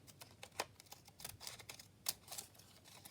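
Cheap torn-edge craft scissors snip through a paper journal tag, giving a few sharp, close cutting clicks spaced unevenly over a quiet background.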